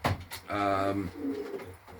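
Pigeons cooing inside a breeding loft, with a close, soft low coo rising and falling over about two seconds, heard alone and without talk.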